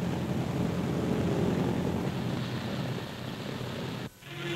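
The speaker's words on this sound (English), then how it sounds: "The first plane lands on the new strip" A steady, loud WWII aircraft engine drones close by, then cuts briefly near the end as the plane settles onto a new airstrip on Mindoro, Philippines.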